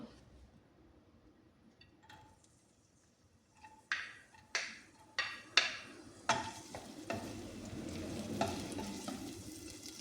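Chopped garlic dropped into hot oil in a home kitchen, quiet at first, then sharp crackling bursts and pops that settle into a continuous sizzle.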